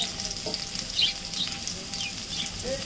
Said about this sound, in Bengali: আলুর টুকরোগুলোকে ভালো করে নেড়ে চেড়ে একটু ভাজা ভাজা করে নিতে হবে